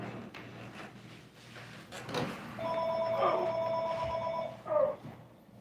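A house landline phone rings with a bright electronic trill in two bursts, heard at moderate distance in a quiet room after some faint shuffling and clatter.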